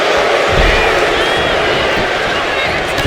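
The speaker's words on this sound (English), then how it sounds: "This crowd is thunderous right now." A wrestling arena crowd at a televised WWE SmackDown show roars loudly and steadily right after a leg drop, a dense wall of cheering with no break.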